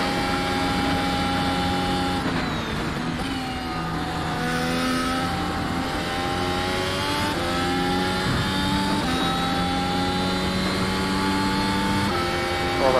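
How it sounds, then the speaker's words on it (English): Mercedes F1 W13 car in iRacing engine braking, a loud high-pitched engine whine that drops and rises repeatedly through downshifts and revs, continuous and up close, with a voice talking at times. "Over again with the engine braking."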